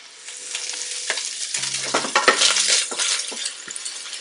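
Traditional African fried rice sizzles and crackles in a pan, with a steady frying hiss and occasional utensil scrapes and clinks close by.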